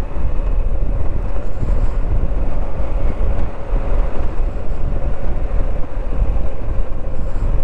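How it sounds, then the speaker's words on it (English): A strong, chilly north crosswind buffets a rider on a Moto Guzzi V85TT crossing Dartmoor, a loud, continuous low roar of wind noise over the bike's drone with no let-up. "That crosswind is really strong today though."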